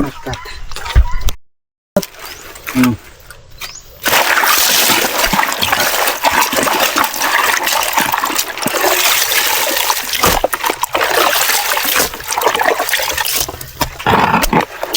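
Water drains off feed scraps on a farm with a loud, continuous rushing splash that starts after a few seconds of quieter trickles and brief gaps, then carries on steadily.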